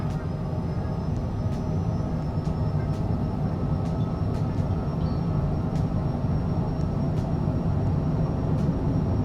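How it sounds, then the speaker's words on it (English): A simulated airliner's engines at takeoff thrust in Flight Simulator 2024, a steady broad roar with faint clicks scattered through it and no talk. "Takeoff thrust is set."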